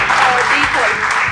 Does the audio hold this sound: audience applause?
yes